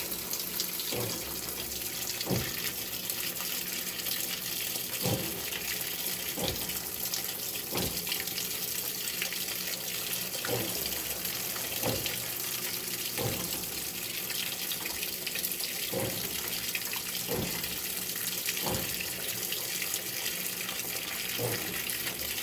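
A GE GTW680BS6JWS top-load washing machine fills with water on a delicate cycle in a steady, soft rushing stream, and faint periodic clicks or thumps recur every couple of seconds under the flow.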